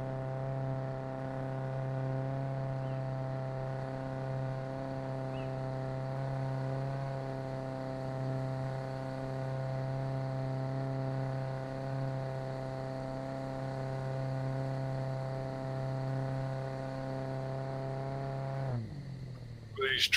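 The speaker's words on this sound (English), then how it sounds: "These tractors shake all over and they're so loud you can hardly hear." Steady, loud engine drone of a tractor in the survival game Scum, a constant low idle-like hum with strong harmonics running unbroken for about nineteen seconds, then dropping off abruptly near the end with a brief clatter.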